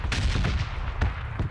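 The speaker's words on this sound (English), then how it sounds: "Shots fired." Gunfire in the video game PUBG, aimed at a car's tires: three sharp shots ring out at the start, middle and end over a steady wash of game noise.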